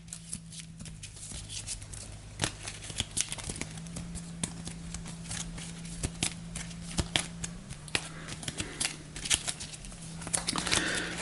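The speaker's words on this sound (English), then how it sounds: "We'll shuffle up Ventress's deck." Playing cards being shuffled for a villain deck in a Star Wars: The Clone Wars board game, a steady run of soft riffling clicks and flutters over a low background hum, no talking.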